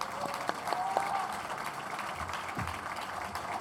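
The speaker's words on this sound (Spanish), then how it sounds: "Demos un fuerte aplauso a Daniel Balmaceda." An audience at a book fair presentation applauds the author. The clapping is soft and distant, a steady wash of many hands with a few sharper claps poking through, and no one speaks.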